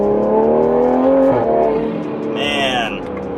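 A Toyota Supra A90 accelerates hard in third gear while spinning its wheels, its engine note loud, close and rising, with a brief high whine near the end as voices talk over it.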